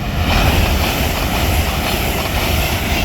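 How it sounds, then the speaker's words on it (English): A Hull Trains Paragon Class 802 train passes through Hatfield on the East Coast Main Line, giving a loud, steady rushing roar with deep rumble that holds at full level throughout, with no voices over it. "We have a Hull Trains Paragon class."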